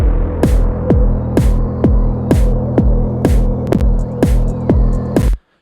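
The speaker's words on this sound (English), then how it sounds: "you could hear the bass being the low end of the bass being taken away" Bass tone with its low end being cut by a Waves Curves EQ plugin, a repeating pulsing bass note struck about seven times at a steady rhythm, each hit decaying downward, loud and alone before stopping abruptly.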